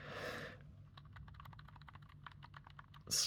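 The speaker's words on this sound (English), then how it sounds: "The buttons are sort of like slightly squidgy but slightly clicky." A Grundig TP 400 TT remote control has its slightly squidgy, clicky buttons pressed in a quick, irregular series of soft close-up clicks, bracketed by brief louder handling noise.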